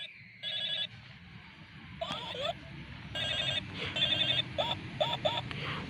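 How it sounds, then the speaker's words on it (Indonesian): A Hello Kitty toy telephone rings in repeated short electronic bursts, a bright trilling tone that stops and starts several times, close and fairly loud, with a voice talking over and between the rings. "Ini ada telepon Hello Kitty. Kakak ingin menelepon si Bobo Boy."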